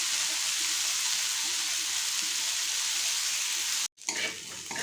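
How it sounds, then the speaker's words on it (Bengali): Potatoes sizzle steadily in hot oil in a pan, a continuous bright frying hiss that cuts off abruptly near the end, followed by a brief clatter. "এইভাবে আমি কিছুক্ষণ এটাকে ভাজবো, যতক্ষণটা আলুটা খুব ভালো করে ফ্রাই না হয়ে যায়।"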